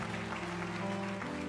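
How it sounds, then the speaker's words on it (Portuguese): Church congregation applauding during a service: a brief, dense wash of clapping from many hands, steady and moderately loud with a faint low hum beneath. "E aplauda ao Senhor Jesus aí"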